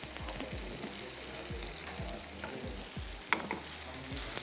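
Tomatoes with red chili and salt frying for beef karahi masala in a pan, a steady soft sizzle broken by regular scraping strokes of a spoon stirring, with one sharp clink.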